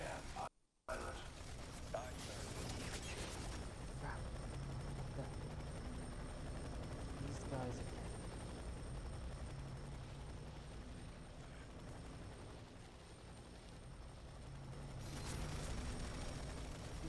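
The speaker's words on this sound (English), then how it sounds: "Helicopter." Helicopter in the video game F.E.A.R. 3 during rain, a continuous droning rotor and engine roar that stays loud and steady, with voices speaking over it.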